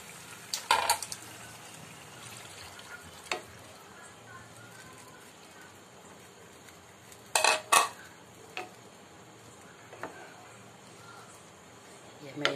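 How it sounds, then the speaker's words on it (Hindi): A spoon stirs sauce into sautéed onion and capsicum in a pan for restaurant-style chilli chicken. Faint soft scraping runs under quiet talk, broken by a few sharp clinks of the utensil against the pan. "ये जो हमने अपना सॉस बना के रखा था, तो अब ये हम इसमें मिक्स कर देंगे"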